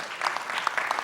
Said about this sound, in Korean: 박수 한번 보내십시다